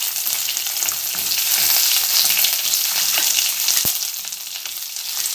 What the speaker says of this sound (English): Add curry leaves in it, 2 tablespoons of oil, fry it, and then you have to add small onions.